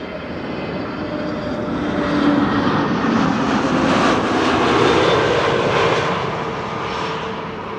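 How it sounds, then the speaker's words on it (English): A British Airways Airbus A320neo landing, inbound from London Heathrow: a steady broadband jet roar that swells through the middle as the aircraft passes close and then eases slightly, with no talk over it. "BA in the meantime is landing here. That's an A320neo arriving from London Heathrow."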